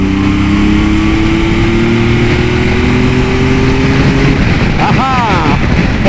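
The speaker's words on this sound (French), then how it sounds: "Et alors, par contre, à 3, j'accélère en grand." Triumph Tiger 900 GT Pro or Yamaha Tracer 9 GT (2021) motorcycle accelerating at full throttle from about 90 km/h, a loud steady engine drone with rising pitch under strong wind noise, and someone talking briefly.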